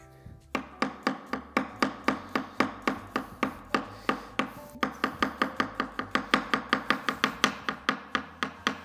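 Garlic being chopped and minced on a cutting board with a Hedley & Bennett kitchen knife: a steady, quick run of sharp, close knife taps, about three per second, continuing without pause.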